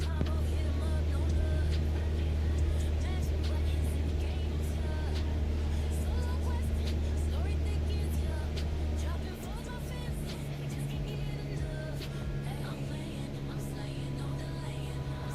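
Steady propeller-aircraft engine drone in a flight simulator game, loud and continuous, dropping to a lower, quieter hum partway through as power is pulled back, with a voice talking over it.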